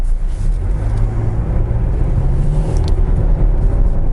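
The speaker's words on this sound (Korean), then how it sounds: "지금부터 볼보 크로스컨트리 V60과 함께 주행을 시작하도록 하겠습니다" A Volvo V60 Cross Country pulls away with a steady low engine rumble and road noise filling the cabin, loud and constant, with no voices heard.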